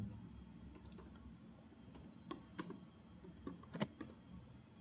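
Keys clack on a computer keyboard while logic gates are being written, in irregular sharp taps and small clusters of clicks that are close and fairly quiet over a soft background hiss.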